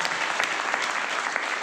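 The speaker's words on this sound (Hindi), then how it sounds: "ताली जोरदार वाली बजाइए सर।" Loud, dense applause from a seminar audience at an RCM business motivational event, steady clapping filling the whole moment with no pauses.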